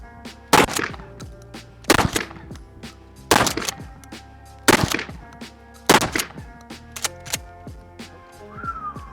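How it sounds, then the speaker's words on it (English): A shotgun firing slugs, five loud booming shots spaced roughly a second apart, each followed by mechanical clacks and rattles of the action cycling between shots, outdoors on a range. "One shot at a time, work your way through it, John"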